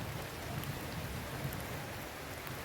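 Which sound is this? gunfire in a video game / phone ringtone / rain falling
rain falling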